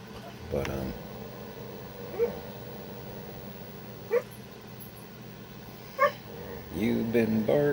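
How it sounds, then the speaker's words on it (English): A sleeping dog lets out soft, muffled yips, short whimpers and brief bark-like huffs at intervals, close by over a faint background hum, with a louder stir of sound at the end. "you've been barking in your sleep."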